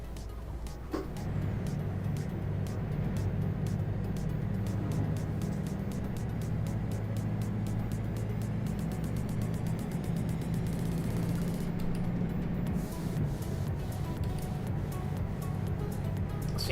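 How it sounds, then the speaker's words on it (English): A truck engine in Euro Truck Simulator 2 drones loud and steady under acceleration, a constant low roar with rapid ticking over it and no talk. "I do love the roar of this truck when you put your foot down."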